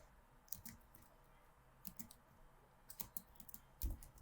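Someone types on a computer keyboard in a quiet room, giving faint, irregular clicks and taps for a few seconds.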